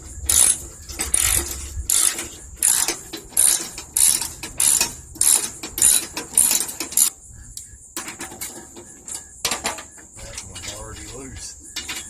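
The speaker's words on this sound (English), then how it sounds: "I'm using a 1/2-inch socket to look under this cover." Ratchet with a 1/2-inch socket working on a 1979 Lazy Boy B 400H vintage push mower: a string of close, loud ratcheting clicks in repeated bursts, then quieter clicking and handling noises, with no talking.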